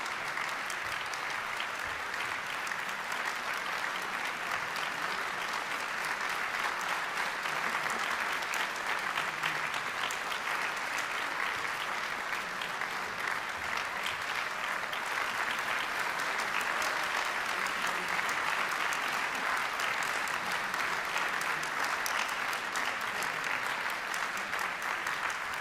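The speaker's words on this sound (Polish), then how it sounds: "Brawa!" An audience at a vocal competition award ceremony applauds steadily and loudly, a dense, continuous wash of clapping that holds its level for the whole stretch without pause.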